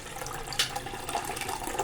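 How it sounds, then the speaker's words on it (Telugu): Water pours from a half glass into freshly squeezed sweet lime juice, a faint, steady trickle and splash lasting a couple of seconds. "దీంట్లో మనం ఒక 1/2 గ్లాసు వాటర్ వేసుకుందాం"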